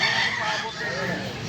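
A white kilsok rooster crows close by in a yard, one drawn-out call filling the moment, with faint background voices and other fowl underneath.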